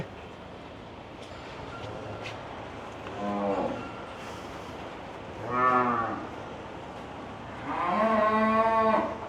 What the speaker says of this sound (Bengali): সত্তর হাজার টাকার গরুটা বাইরে একটু দৌড়াদৌড়ি করবে